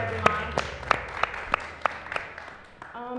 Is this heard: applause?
yes